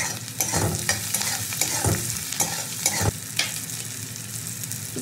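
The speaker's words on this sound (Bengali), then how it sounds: "পেঁয়াজটা তো আমার সুন্দর ভাজা হয়ে গেছে" Onions frying in a pan, sizzling up close while a utensil scrapes and stirs them in irregular strokes, with no talking.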